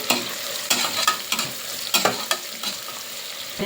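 Onions fry in oil until golden, with a close, crackling sizzle and repeated quick spatula scrapes against the pan in an irregular rhythm.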